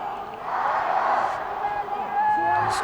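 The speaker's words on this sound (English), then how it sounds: "This crowd growing in strength and voice." A rugby sevens crowd at a men's cup final between China and Japan swells from a softer murmur into louder, sustained cheering and shouting, with a commentator's voice running over the noise.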